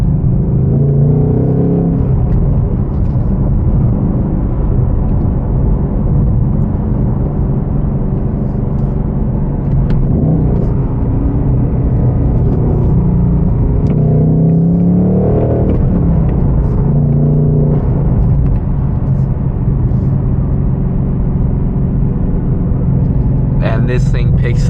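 A 2024 Mustang Dark Horse with a six-speed manual accelerating hard, its engine and exhaust droning and climbing in pitch with loud, steady road rumble throughout while someone talks over it.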